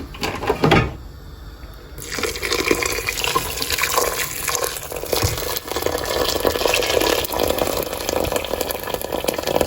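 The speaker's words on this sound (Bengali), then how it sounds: "এর মধ্যে এখন আমি গরম পানি ঢেলে দেবো।" Hot water pours into a pot of lentil and rice mix for haleem, starting with a sharp splash and then settling into a loud, continuous gushing pour close by, with no speech.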